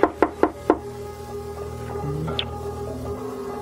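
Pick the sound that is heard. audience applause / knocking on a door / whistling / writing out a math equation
knocking on a door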